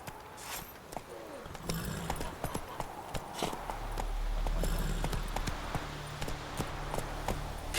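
Geralt's horse Roach gallops in The Witcher 3, with a steady run of clip-clop hoofbeats at a brisk rhythm over a low rumbling game ambience. A short voice is heard near the start.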